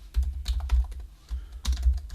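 Computer keyboard keys tapped while entering Arduino code, coming in quick close bursts of clicking keystrokes with short pauses between them.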